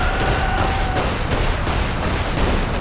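Gunfire in the wizard action game Magicka, a dense, loud, continuous barrage of rapid shots and blasts filling the whole moment without a break.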